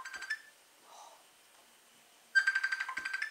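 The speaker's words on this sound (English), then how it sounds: "me sister's ringing us" A phone ringtone for an incoming call starts with a short burst, pauses, and then plays as a rapid, bright, repeating electronic pattern, fairly near and heard on its own.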